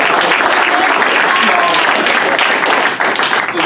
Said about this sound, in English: This is where you guys clap.